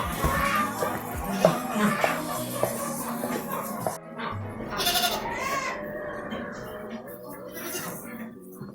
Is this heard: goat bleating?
yes